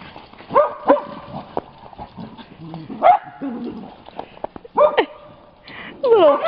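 A group of six dogs playing together, giving repeated sharp barks, high yips and whimpers in irregular bursts, close by and loud against a quiet background.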